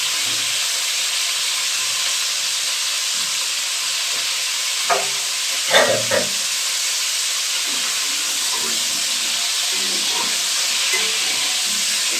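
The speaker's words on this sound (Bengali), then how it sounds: "তো একই তেলেই আমি ফুলকপিগুলো কষে নেব।" Cauliflower florets frying and being stirred in the same hot oil used for potatoes, a steady loud sizzle and hiss throughout with a few brief scraping stirs near the middle.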